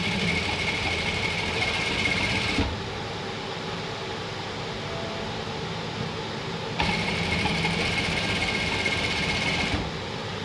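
Sewing machine stitching a cloth lining strip along an edge, a steady close mechanical hum that runs in two stretches with a quieter gap between, no talking.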